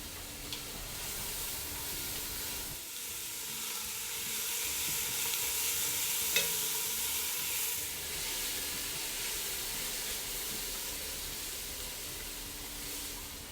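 Celery and carrots sizzling in a pot for a Manhattan clam chowder, making a steady hiss and crackle at moderate level with a brief stir near the middle and no voices.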